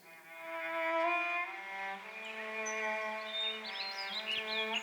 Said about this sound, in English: The cello, Londonderry air, and the nightingales